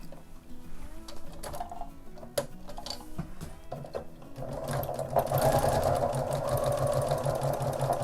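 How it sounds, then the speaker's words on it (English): A sewing machine stitches straight across the top of a card holder wallet, with soft handling clicks first and then a fast, steady, close needle whir from about the fourth second on. "the next step is to sew straight across the top part"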